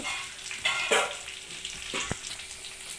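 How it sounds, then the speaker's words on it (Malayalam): Mustard seeds added to hot oil in a pan sizzle and crackle close up, with a few sharper pops and stirring scrapes over a steady frying hiss. "എണ്ണ നന്നായി ചൂടായി വന്നതിന് ശേഷം കടുക് ചേർത്ത് കൊടുക്കുന്നുണ്ട്"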